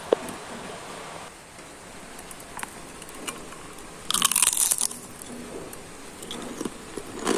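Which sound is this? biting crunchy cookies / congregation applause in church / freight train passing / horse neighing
biting crunchy cookies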